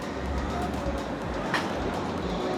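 A tram runs along a street shared with cars in a Croatian city, giving a steady low rumble and rolling clatter at close range, with a brief higher screech partway through.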